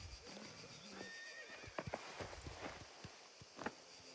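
In the video game Mafia: The Old Country, a horse whinnies a few times, then hooves clop in an uneven rhythm, close by over a low, steady ambient backdrop.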